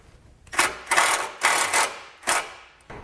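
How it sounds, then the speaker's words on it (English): A power drill drives a self-tapping screw into the frame of a 2019 Chevrolet during a trailer brake controller wiring install. Four short, whirring mechanical bursts come close and clear, each with a quick pause between. "We're just gonna run this into the frame using a self-tapping screw that comes provided with the kit."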